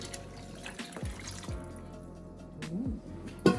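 Reserved cooking water is poured back into a pot of red pea soup with pigtail and cow foot, giving soft splashing and a few bubbly drips, quiet and close, ending in a sharper splash.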